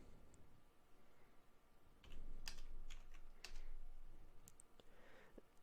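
Code typed on a computer keyboard: faint, quick bursts of key clicks, uneven and close, with short pauses between runs and no talk.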